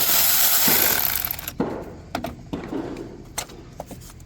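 A ratchet with a 10mm socket working loose a battery terminal bolt on a Nissan Versa, a steady burst of clicking followed by separate sharp metallic ticks and clanks, close up.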